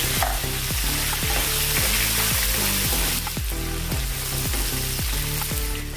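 Loud, continuous sizzling of ginger and garlic frying in hot oil, with rhythmic scraping and stirring sounds repeating throughout.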